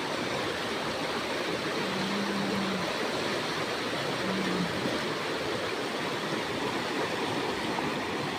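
Strong river current rushing in a steady, dense roar that fills the whole stretch, with a couple of faint brief tonal hums rising above the water and no voices.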